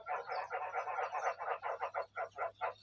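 Frogs croak from a bathroom in a Thai home, a run of about a dozen rhythmic, moderately loud pulsing calls in steady succession.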